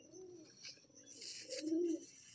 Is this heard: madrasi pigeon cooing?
yes